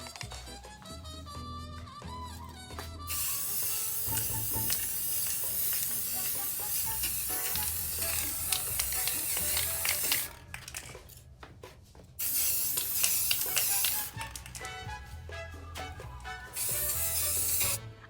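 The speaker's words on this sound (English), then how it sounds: "let's go and spray this down now" A spray paint can hisses in several long bursts over a mirror frame during a DIY makeover, loud close sprays with short gaps between them, over quiet background music.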